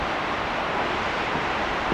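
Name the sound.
strong wind at Yellowstone lake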